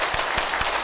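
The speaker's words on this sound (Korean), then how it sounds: "우리 모두 박수 한번 합시다." A church congregation claps together during a thanksgiving service for elders' ordination and retirement, a brief burst of dense, steady applause filling the room.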